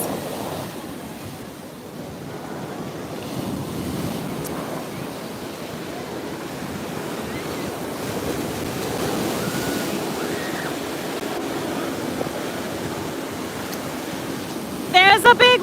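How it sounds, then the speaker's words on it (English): Ocean waves wash and break continuously on a sandy beach, a broad steady surf roar with wind, heard close and loud, with faint voices near the end. "There's a big wave coming."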